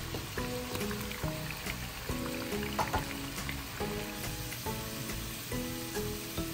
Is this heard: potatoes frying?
yes